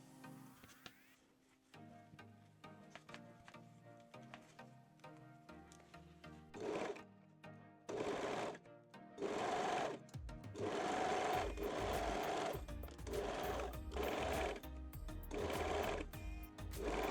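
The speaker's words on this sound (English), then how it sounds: "pin and sew the center front seam" A sewing machine stitches the center front seam of a lace bra cup in several short bursts of rapid mechanical whirring, separated by pauses, growing louder and longer toward the end.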